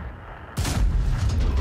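A single tank cannon shot in World of Tanks, fired from a T49 at a Maus, lands as a sudden heavy boom. It is loud and close, with a rumbling tail after a quiet moment.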